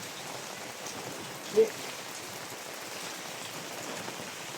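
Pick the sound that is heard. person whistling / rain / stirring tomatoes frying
rain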